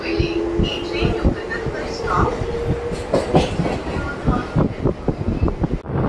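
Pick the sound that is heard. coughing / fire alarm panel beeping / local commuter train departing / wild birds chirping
local commuter train departing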